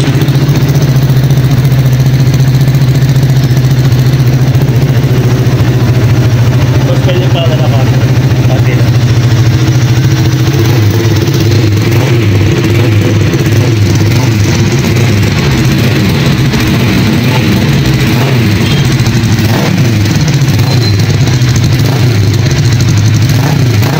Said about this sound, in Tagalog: Ito nga guys ang kanyang soundcheck na kahit nga po naka stock 5 pa lang makikita mo talaga na may buga at malakas talaga ang tunog ng kanyang makina.